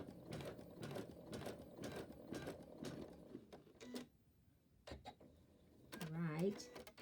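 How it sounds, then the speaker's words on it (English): A computerized embroidery machine stitches a sashiko placement line on hooped fabric, a rapid, steady mechanical patter of needle strokes for about four seconds, then a pause with a few scattered clicks before a voice speaks near the end. "This is a placement line that is actually being stitched."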